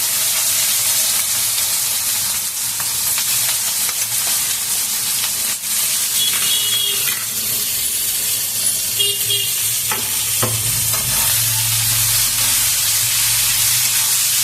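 Chopped onions frying in hot oil for a Bengali recipe, a steady loud sizzle and hiss with occasional stirring scrapes, close up and continuous, with no voices.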